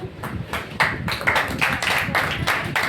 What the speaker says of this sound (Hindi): मैं ताली बजाऊंगी इसलिए कि मैं तैयार हूँ